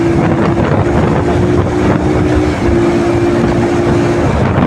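A motorcycle ridden fast on a road, its engine giving a steady close drone with a held tone that shifts pitch once midway, under continuous wind rush across the microphone, with no talking.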